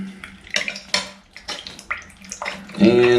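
Shower water running and draining freely through a floor drain just cleared of a hair clog with a hair snake, a steady splashy wash with clinks and knocks over it, then a brief louder tonal rush at the end.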